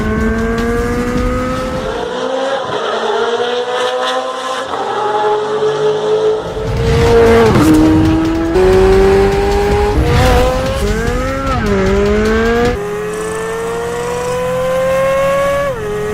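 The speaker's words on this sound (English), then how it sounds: "And it sounds just like the BMW M3 GTR P60 engine." A 670-horsepower naturally aspirated sports car engine with an 8,500 RPM redline revs loudly and close, rising and falling in pitch over and over with sharp climbs, alone with no talk.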